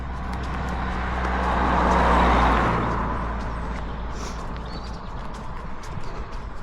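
A single car passes along a quiet road through old woodland, swelling from a distance to a broad, loud rush near the middle and then fading away, with no talk.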